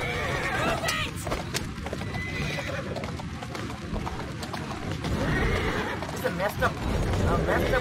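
Video game horse-drawn carriage in Assassin's Creed Syndicate: hooves clip-clop steadily over a low rumble of wheels, with a horse whinnying partway through and a voice talking over it.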